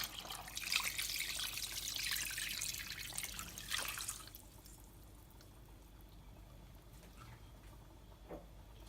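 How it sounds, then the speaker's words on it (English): Brine poured over chicken in a bowl for jerk chicken, a soft liquid splash and trickle for about four seconds that fades to quiet drips. "I'm just going to pour my brine onto the chicken now as it's completely cooled down"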